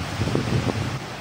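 Strong typhoon wind in Batanes blows steadily as a low, rushing roar with soft gusty swells, close to the microphone and without voices.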